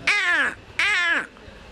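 A man imitates ordinary crows with his voice, giving two loud, close, harsh caws in quick succession.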